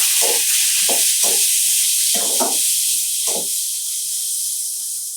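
Tomatoes go into a hot frying pan of onions for palak paneer, producing a loud, steady hiss with several short bursts of bubbling and stirring, heard close with no talk.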